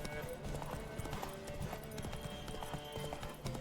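Horse galloping in The Witcher 3 video game, a steady rhythmic clip-clop of hooves with an occasional whinny, loud and continuous over game music, with people talking over it.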